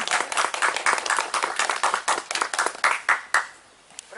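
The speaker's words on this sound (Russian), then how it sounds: "аплодисменты" Audience applause after a poetry reading at a poets' gathering in Tikhvin: a small group clapping steadily and fairly close, thinning into a few scattered claps before fading out.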